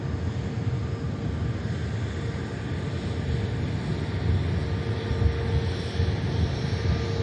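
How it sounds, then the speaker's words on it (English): A Vueling airliner's engines spool up on the runway at Manchester Airport, a steady broad low roar that swells slightly toward the end, heard from a distance, with no talking. "Aircraft already on the active and just beginning the spool up."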